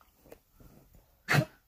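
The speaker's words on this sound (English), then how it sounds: "you hear that? That's my dog." Quiet snuffling and breathing from a dog, then a single sharp bark near the end.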